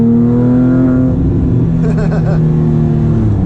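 Porsche 997.2 GT3 RS held in third gear, its engine a loud steady drone with a strong low hum that swells slightly as it pulls, some road and wind noise mixed in.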